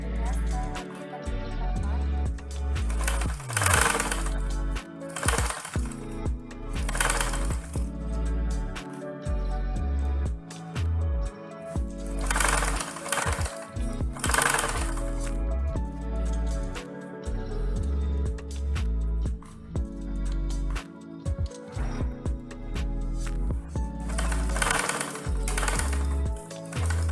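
A sewing machine stitches a songket span skirt in short, rapid bursts, whirring on and off with pauses between runs while a person talks throughout.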